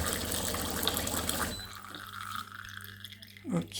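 A DeLonghi Magnifica coffee machine dispenses hot water, a steady pouring gush for about a second and a half before it stops, leaving a quiet mechanical hum and a brief gurgle.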